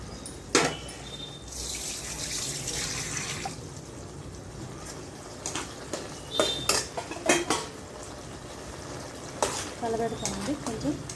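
A spoon stirs tender jackfruit seed curry in a pot in a village-style kitchen, with clinking metal-on-pot scrapes and clatters, some near and sharp, over low background noise and occasional faint voices.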